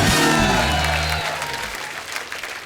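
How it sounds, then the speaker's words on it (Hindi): Studio audience at a comedy talk show clapping for a guest, loud applause with a musical sting underneath at first, the clapping thinning and fading after the music ends. "राहत साहब के लिए एक बार खुल के तालियां हो जाएं।"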